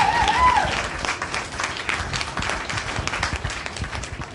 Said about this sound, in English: Let's get a round of applause for Tony Jeff, everyone.